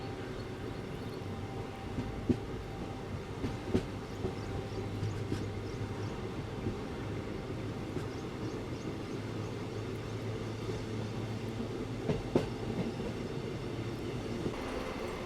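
Inside a coach of the early-morning Harihar–Hospet passenger train, a steady low rumble runs throughout, with occasional clickety-clack knocks as the wheels pass rail joints.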